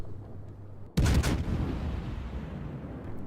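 A single heavy naval gun blast booms out in a warship video game battle against the Bismarck, a sudden loud thump with a long rumbling decay and low background hum; no voices.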